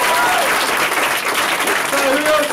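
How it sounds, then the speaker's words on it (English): Audience applause at an improv comedy show, a dense steady clatter of many hands filling the room, loud and continuous throughout. "Give me a round of applause."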